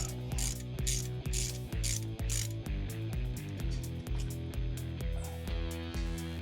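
Rapid, steady clicking of a ratchet working loose a bracket on a Ford Zephyr engine, close and continuous, with repeated strokes in quick rhythm.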